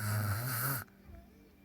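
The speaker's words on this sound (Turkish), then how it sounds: "Ay ben böyle bir horlama görmedim" Single loud, rough snore from a sleeping person, a close rasping drawn-out breath that cuts off abruptly, leaving faint quiet breathing after.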